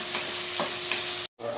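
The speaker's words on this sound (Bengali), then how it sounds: "আমরা পেঁয়াজটা ভালো করে একবার ভেজে নেব" Onions frying in a pan and being stirred, a steady close sizzle with a few scraping strokes, briefly cutting out before resuming; no talk.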